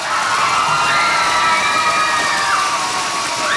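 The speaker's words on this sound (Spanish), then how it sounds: "¡Fuerte el aplauso!" A crowd at a live event cheers and shouts loudly in a continuous roar, with high whoops and children's voices rising above a dense, close wash of noise.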